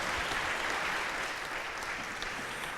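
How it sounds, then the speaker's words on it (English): Audience applause for Dream Corps staff at a GLIDE talk: steady, dense clapping from a crowd, fairly distant and even throughout, with no voices over it. "Now give him a real round of applause."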